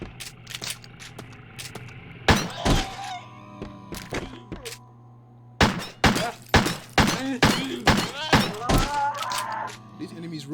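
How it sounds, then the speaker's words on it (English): Gunshots at an enemy in the survival horror game Crow Country come as sharp, loud percussive thumps, one near the start and then a rapid cluster of shots, over a low game hum with someone talking throughout. "So, shoot this enemy here."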